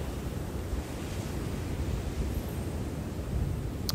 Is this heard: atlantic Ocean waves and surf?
yes